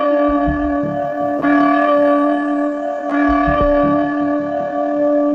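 A deep bell tolls in the video game Plague Inc., sounding loud and resonant twice, about one and a half seconds apart, with each long ringing decay overlapping the next.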